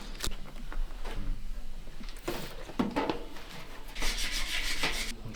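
A clay bar is rubbed over the paintwork of a classic Morris Minor Traveller, producing close, irregular squeaky rubbing and scrubbing strokes with brief pauses between passes.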